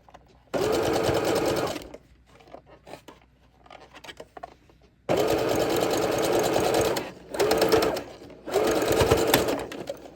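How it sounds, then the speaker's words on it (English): A sewing machine stitches a zigzag seam while a leg garter is being made, running in three loud, steady bursts with short quiet pauses and light handling noises between them. "so as you can see, you have the zigzag stitch."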